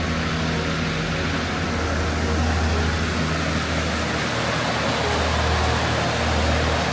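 Rushing water from High Force waterfall in Teesdale, North Pennines, on a rainy morning roars as a steady, dense, loud wash of noise throughout with no variation or talking.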